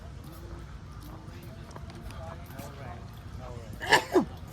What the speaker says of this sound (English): When somebody sneezes, they can say, Smite.